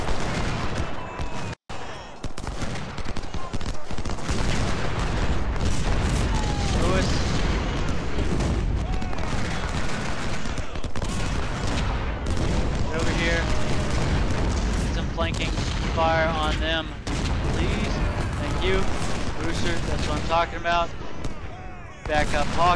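Union troops firing guns in a Civil War battle game, continuous volleys of musket fire and booming shots forming a dense, loud battle din, with shouting voices mixed in.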